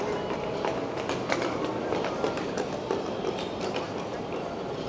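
An airport people-mover train running past, a steady rumbling roar with faint rhythmic clatter from the wheels, fairly loud and continuous in a large indoor station, with voices murmuring in the background.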